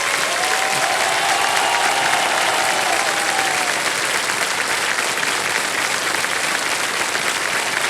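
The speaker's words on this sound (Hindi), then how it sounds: "तालियां बजती रहे इनके लिए" Sustained applause from a game show studio audience, dense and steady clapping throughout, with a faint tone rising briefly early on.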